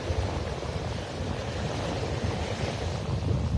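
Waves rolling onto the beach at North Naples, Florida, on a windy, rainy morning, a steady broadband wash of surf with wind rumble, continuous and fairly close, no voices.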